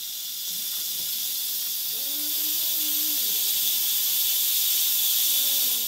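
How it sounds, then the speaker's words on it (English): Steam hisses steadily from the pressure release valve of an Instant Pot cooking venison stew, a loud continuous rush that swells slightly, with faint whistling tones under it. "now all you have to do is drain the steam out of this"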